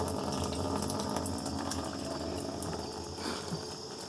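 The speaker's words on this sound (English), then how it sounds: "I've got our water is actually flowing into the bucket, and it's going out the bottom" Wash water flows steadily into a bucket and drains out the bottom, a continuous broadband gush and trickle that stays even throughout, with no voices.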